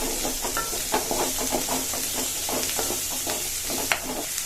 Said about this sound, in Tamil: வெங்காயம் வதங்கிட்டுங்க கொஞ்சம்